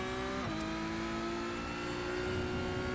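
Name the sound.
Porsche race car engine in a video game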